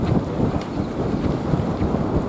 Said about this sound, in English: Hoping the wind noise is not too bad